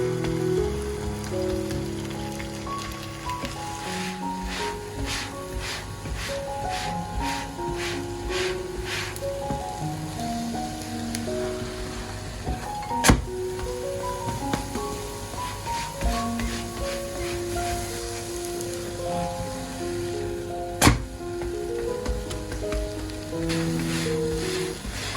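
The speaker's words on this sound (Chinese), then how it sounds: "这个时候开火，使用小火慢慢煎，表面出现定型" Glutinous rice flour cakes pan-fry in oil over low heat, giving a steady soft sizzle that runs throughout beneath louder melodic background music, with two brief sharp clicks.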